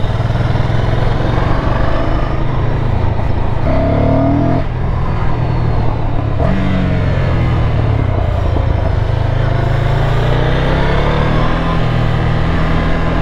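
A Ducati Scrambler motorcycle ridden on the road, its engine droning loudly and steadily with rising and falling revs and shifts, heavy wind rush throughout, no talking.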